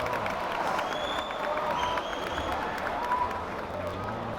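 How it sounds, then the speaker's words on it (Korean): Applause and crowd noise fill the hall at the 2015 World Taekwondo Hanmadang demonstration, a steady dense wash of clapping throughout, with faint commentary and scattered whistles mixed in. "많은 박수 받고 있습니다."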